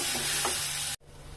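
Food fries and sizzles in a pan with a short stirring scrape, a soft, steady hiss that cuts off abruptly near the end as the heat is switched off.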